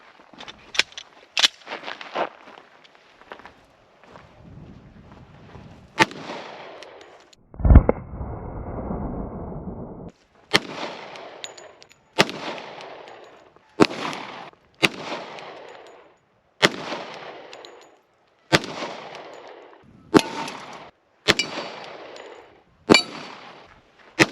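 A Glock 21 .45 ACP pistol fires about a dozen sharp, close shots at a range, spaced roughly one to two seconds apart, with a short burst of clatter and rustling partway through.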